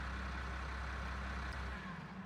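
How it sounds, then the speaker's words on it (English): A Volvo R-100E mining dumper in Farming Simulator 19 hums with a deep, steady heavy-diesel drone that runs continuously before dropping off briefly near the end. "The engine sound is very good."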